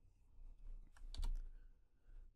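Typing a new folder name on a computer keyboard: a short, quiet burst of key clicks with one brief cluster of louder strikes in the middle, alone without talk.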